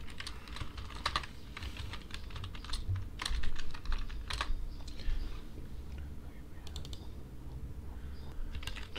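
Someone types code on a computer keyboard, a steady patter of close, quick key clicks with occasional louder strokes and no talk.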